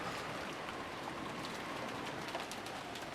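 Steady rain pours down in a visual novel scene, a dense, even hiss of falling drops that fills the whole stretch at low volume, with no voices over it.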